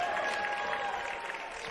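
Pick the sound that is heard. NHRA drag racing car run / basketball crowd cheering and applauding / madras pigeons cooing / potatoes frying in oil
basketball crowd cheering and applauding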